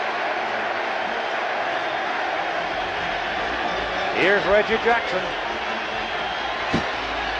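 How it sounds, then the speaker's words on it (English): New York crowd at Yankee Stadium during the 1981 World Series Game 6 against the Dodgers, a steady broad roar of cheering and stomping under a commentator's voice, with a few louder swells partway through. "the primarily New York crowd is up stomping"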